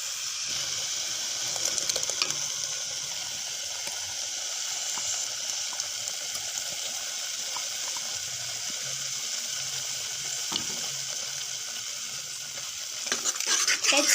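Tomato puree stirred into a frying green peas masala, giving a close, steady sizzle and bubbling hiss with soft scraping of the spoon running throughout, no talk.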